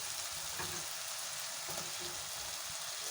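Chopped potatoes frying with spices in a pan for a matar aloo curry, giving a steady close sizzle with a few soft stirring scrapes and no talk.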